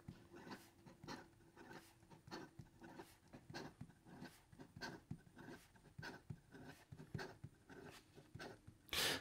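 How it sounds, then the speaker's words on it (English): A S.T. Dupont Line D fountain pen writes quickly on paper, producing a rapid series of close, scratchy strokes in an uneven rhythm, quiet and alone. "in regard to some fast writing"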